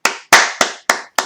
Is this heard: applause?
yes